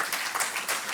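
An audience claps at a Hindi poetry recital (kavi sammelan), a brief, dense burst of applause from many hands.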